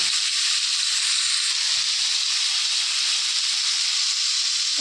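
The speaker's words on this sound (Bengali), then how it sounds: "তেলটাও গরম হয়ে গেলে এর মধ্যে একটু সর্ষে ফোড়ন দিয়ে দেব। কালো সর্ষেটা ফোড়ন দেওয়ার পরে আমটাকেও দিয়ে দিলাম।" Black mustard seeds and mango pieces hitting hot oil for a mango chutney tempering, a loud, dense, continuous hissing sizzle at close range with no voice.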